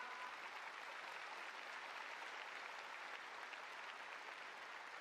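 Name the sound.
audience applause for MVP at basketball all-star game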